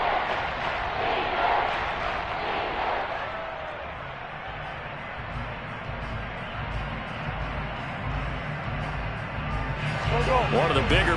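A stadium crowd in the Madden 23 football video game roars steadily ahead of a big third down, a broad, continuous wash of noise running under a commentator's voice.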